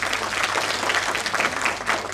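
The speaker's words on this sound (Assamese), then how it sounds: "হাত চাপৰি এটা।" Theatre audience applauding steadily after a stage play, dense clapping from many hands filling the hall at moderate volume without speech.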